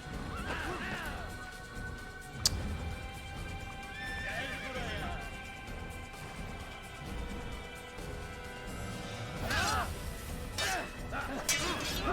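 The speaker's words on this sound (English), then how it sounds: "tem um cavalo brigando comigo" A horse neighs and whinnies in the Assassin's Creed video game, with hoofbeats clip-clopping and game ambience around it, and a player's voice talking over parts of it.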